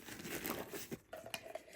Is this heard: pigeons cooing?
no